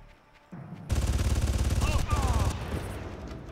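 Sustained automatic gunfire in the Far Cry video game, fired into a bush: a loud, rapid burst of shots starting after a short lull, running about a second and a half before tapering off.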